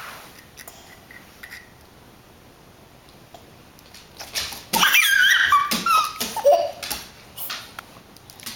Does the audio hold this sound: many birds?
no